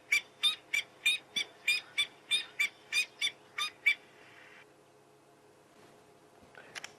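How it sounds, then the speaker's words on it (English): A safari bird nicknamed the rusty bedspring bird gives about eleven rhythmic squeaky creaking calls in a regular series, then falls quiet with only faint background noise and a brief sound near the end. "I'm going to let you guys use your imagination to why it was nicknamed the rusty bedspring bird."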